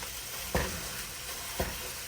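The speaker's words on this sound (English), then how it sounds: "Now that my meat is in here, I'm going to try to break this up a bit, because we don't want it to cook on one side." Ground sausage meat sizzles steadily in a frying pan, with two distinct scraping knocks as a utensil breaks it apart, close and moderately loud.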